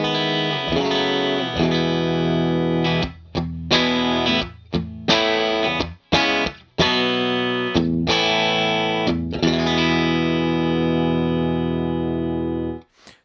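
Electric guitar played through a Greer Amps Fish Press compressor pedal set for mild compression, sustained chords and notes ringing loud and close with brief pauses between strums.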